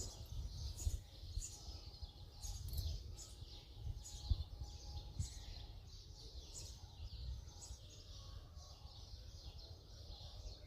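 Faint, high bird chirps repeat in a loose rhythm over a low outdoor rumble, distant and quiet throughout.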